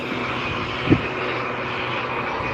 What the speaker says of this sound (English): Both engines are definitely running.